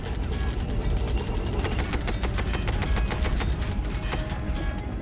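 Sustained, loud automatic gunfire rattles in rapid continuous bursts against a dense rumbling battle backdrop, as troops fire on an advancing World War I tank from 1916.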